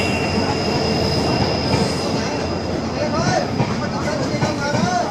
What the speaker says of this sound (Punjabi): ਇਹ ਟ੍ਰੇਨ ਆ ਗਈ ਟ੍ਰੈਕ